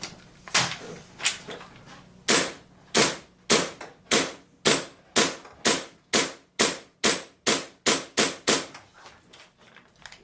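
An airsoft KJW KC02 fires from a Vulcan magazine through a mag adapter, giving about eighteen sharp, close, loud shots in a steady string with brief gaps and no talking.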